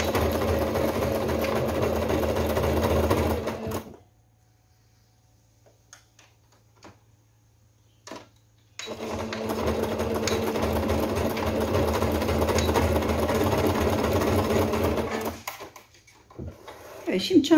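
A sewing machine runs in two steady bursts, stitching down a bag strap to hold a D-ring on a handmade summer crossbody bag, with a quiet pause between runs and a few soft handling clicks.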